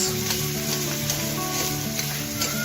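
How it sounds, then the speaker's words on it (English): Ginger garlic paste and onions sautéing in a pan for an aloo puri festive thali, giving a steady, fairly loud sizzle with faint stirring scrapes throughout and no talking. "Stir the ginger garlic paste and onions."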